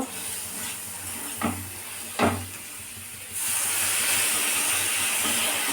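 Water poured into a hot pan of curry gives a sudden loud, steady sizzling hiss that swells and holds to the end, after a quieter stretch with a couple of brief knocks.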